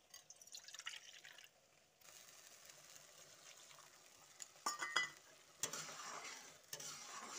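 Soaked spice paste stirred and sautéed in a pan with a little water for a vegetarian okra dish, a faint bubbling sizzle under irregular spatula scrapes and a few sharper knocks.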